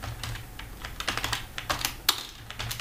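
Code typed on a computer keyboard for a C++ lesson, a quick run of close, crisp key clicks in uneven bursts with one sharper tap near the end, no talking over it.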